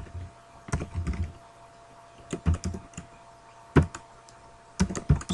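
Typing on a computer keyboard during game development work, short bursts of crisp key clicks separated by pauses, close and clear with no voice over them.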